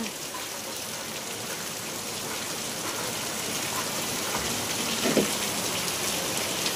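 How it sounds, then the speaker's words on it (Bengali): Heavy rain pours down in a steady, dense wash of hiss that holds evenly throughout, with a brief louder splash near the end. "কি হারে বৃষ্টি পড়ছে!"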